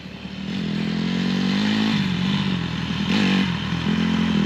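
A dirt bike engine runs steadily and loud at close range, holding a rough mid-pitched drone with slight pitch rises and falls as a first-time rider learns throttle and clutch control, with no talk over it.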